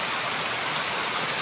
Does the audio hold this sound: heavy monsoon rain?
yes